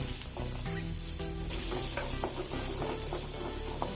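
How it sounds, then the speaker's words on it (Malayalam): Small onions fry in coconut oil with a loud, close, steady sizzle and soft stirring scrapes underneath, running evenly for a few seconds without any talking. "ചെറിയ ഉള്ളി ഇട്ട് കൊടുത്ത്"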